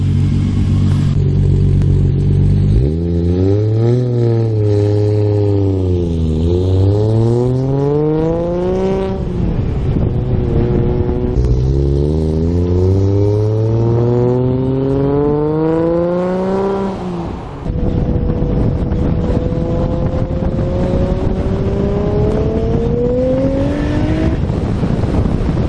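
Toyota Supra engine revving hard with antilag, several long rising and falling engine sweeps, loud and close, ending with a sustained climbing rev.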